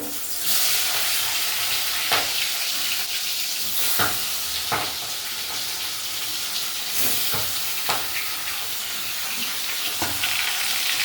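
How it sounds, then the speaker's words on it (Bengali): Fish frying in about two and a half tablespoons of hot oil in a kadai, a steady loud sizzle and hiss with occasional sharp crackles and spatters throughout. "এবার আমি এই মাছগুলো একটুখানি ভেজে নেব"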